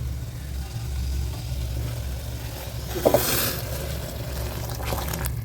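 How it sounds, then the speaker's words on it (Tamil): Water for tomato rice comes to a rolling boil in a cooking pot, giving a steady bubbling roar with a brief clatter partway through. "தண்ணி வந்து நல்லா கொதிக்குது பாருங்கள்"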